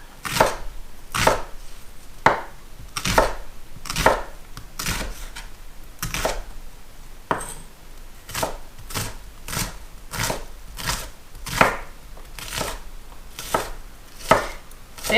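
A knife chops food on a cutting board in a rapid, steady run of crisp knocks, close and distinct, with no talking.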